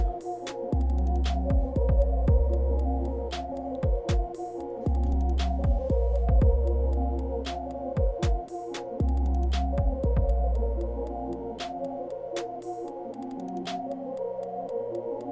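Electric hair clipper running steadily while blending a fade, a close, continuous motor hum with rhythmic throbbing as the lever opens and closes, briefly cutting out a few times.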